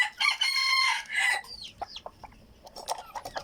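A Thai Isan game-breed rooster crows loudly up close, a long drawn-out call, followed by scattered clucks and short bird calls.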